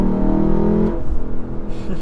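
A sports car engine holds a loud, steady revving drone for about a second, then drops sharply as the gearbox shifts from third to fourth, leaving a rougher, uneven lower rumble from inside the cabin.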